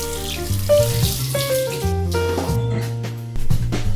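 A bathroom tap runs lukewarm water for rinsing the face, a steady splashing stream under a loud tonal background of sustained musical notes, with no talking.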